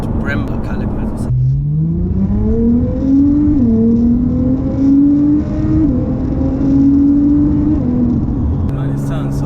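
A 700 bhp Nissan GTR with a Miltec exhaust accelerates through gears, engine pitch climbing and dropping at each shift, loud and close inside the car, with people talking over it.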